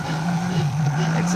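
A poorly running N gauge Lima 4F model locomotive gives off a steady, close motor whir. The pitch wavers slightly as it strains along the track.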